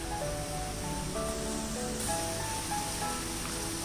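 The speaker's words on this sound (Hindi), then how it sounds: "अब सबसे बड़ा झरना मिलेगा।" A large waterfall at Taj Aravali Resort in Udaipur sends up a steady, full rushing roar that stays loud and even throughout, with no voices.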